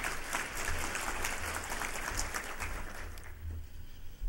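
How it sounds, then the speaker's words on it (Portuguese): Audience applause at a Brazilian ministry presentation, a steady dense wash of many hands clapping at moderate volume that thins slightly toward the end. "Nossos aplausos"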